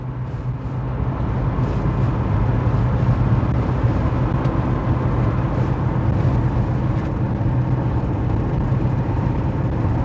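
A 2019 Chevy Equinox drives along just after a rear wheel bearing replacement, its cabin filled with a loud, steady road and engine drone that holds even, without pulsing, throughout.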